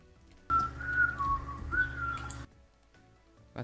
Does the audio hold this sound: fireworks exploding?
no